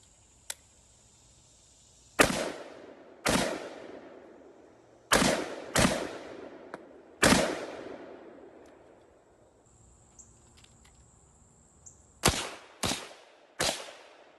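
An M1 carbine and an M1 Garand rifle fire at a WWII reenactment, with single loud gunshots spaced a second or more apart, each trailing a short outdoor echo, and a brief pair and trio of shots near the end.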